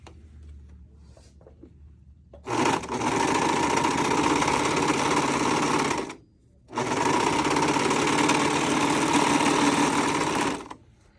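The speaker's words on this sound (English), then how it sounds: "now we'll sew this seam, and maybe it won't be as mysterious once it comes off the serger" A serger sews a seam on boxer-briefs, loud steady whirring in two long runs of about four seconds each, separated by a short pause, with no talking.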